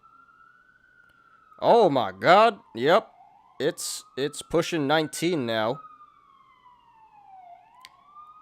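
An emergency vehicle siren wails outside, a faint, steady rising and falling tone heard through the whole stretch, partly under someone talking.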